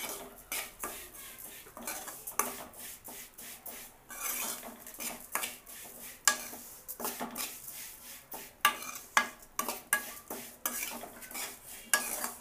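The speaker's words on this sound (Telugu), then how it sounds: "లైట్గా రెడ్గా వచ్చేదాకా ఈ నెయ్యిలోనే చక్కగా వేయించుకోండి." Vermicelli frying in ghee for sweet semiya payasam, with a metal spoon scraping and clinking against the pan in steady, repeated strokes over a soft sizzle.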